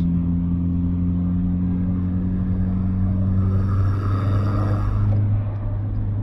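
Volkswagen Polo 1.6 TDI diesel with a hybrid turbo pulling hard from speed, a steady loud engine drone and rumble rising in pitch and building toward the end from inside the cabin.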